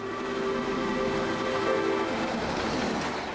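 A steady rumble of a passing steam train on the Fellsman line, with a faint tonal whistle-like hum, continuous and moderately loud throughout.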